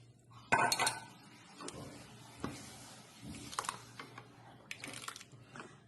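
Mango juice with black basil seeds being stirred in a vessel, giving a few distinct clinks and scrapes of a spoon against the container, with quieter rustling between them and no talk.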